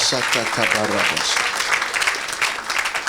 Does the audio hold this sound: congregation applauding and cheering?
yes